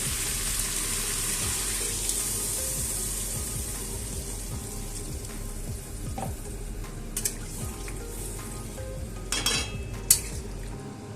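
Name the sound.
water poured into pan of fried prawns and suran curry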